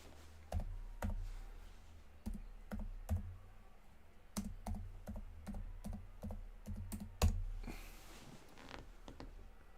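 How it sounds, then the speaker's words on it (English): Keys clatter on a computer keyboard as a player name is typed, a quiet, irregular run of sharp clicks in small bursts with brief pauses between them. "Just type it in."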